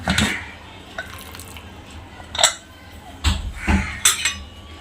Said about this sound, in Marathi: आता आपण कुकर खोलून घेऊया